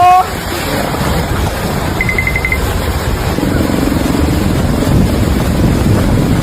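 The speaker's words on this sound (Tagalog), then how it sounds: "Lumalakas pa yung hangin." Wind buffets the microphone in a loud, rushing roar, with a brief beeping tone and rumbling gusts throughout.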